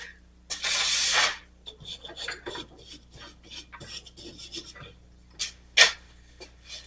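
A harsh burst of spray hisses for about a second while cleaning parts of a rear-engine Snapper mower, followed by scratchy brushing and rubbing strokes, then another short spray near the end.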